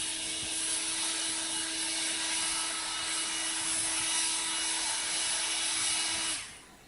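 An EGO cordless power blower roars steadily at close range, blowing pebbles and dirt on a yard, a continuous high whine with no talk, cutting off near the end.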